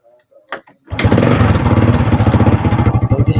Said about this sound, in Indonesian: Setelah itu saya akan menyalakan mesin terlebih dahulu.